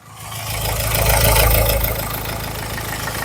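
A car engine with a misfire starts up and settles into a steady, loud idle with a low rumbling hum close by, with no voices.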